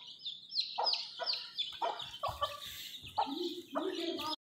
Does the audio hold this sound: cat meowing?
no